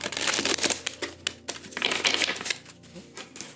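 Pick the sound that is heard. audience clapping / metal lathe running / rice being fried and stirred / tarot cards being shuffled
tarot cards being shuffled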